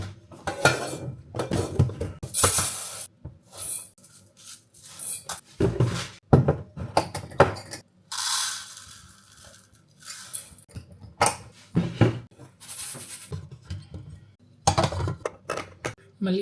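Pots and dishes clatter in a home kitchen while rice is made ready for dinner, with repeated clinks and knocks of cookware and utensils in uneven bursts, close by, alongside some speech.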